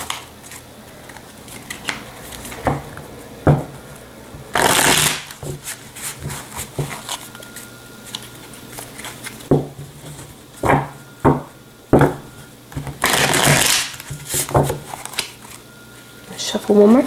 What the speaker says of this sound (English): Shuffle one more time and then we'll cut the deck and begin.